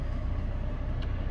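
2017 Toyota Corolla ZR hatchback with push-button ignition, its engine running in a steady low idle rumble, close and continuous with no talk.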